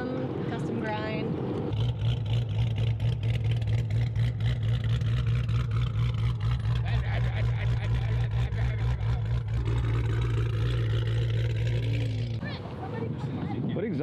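A loud SRT car engine with a custom-grind cam and Borla ATAK exhaust revs and idles with a deep, throaty exhaust rumble, rising in bursts close by, with people talking over it.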